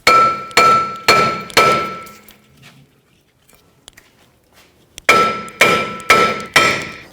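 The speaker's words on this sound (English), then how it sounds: "Now we're going to take the rotor off. I'm just going to give it a tap." A hammer strikes a rusted brake rotor in two bursts of four sharp metallic blows, loud and close with ringing decay, separated by a quiet pause.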